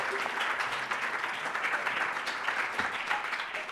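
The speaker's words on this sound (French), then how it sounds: "Oui, on peut l'applaudir. On applaudit." Audience applause following a live music performance with AI and a pianist-composer, a steady dense wash of many hands clapping that carries on throughout without any talking.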